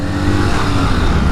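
A motorcycle engine roars loud and close, revving hard right after a gear shift, with a dense, continuous snarl and no pause across the whole burst.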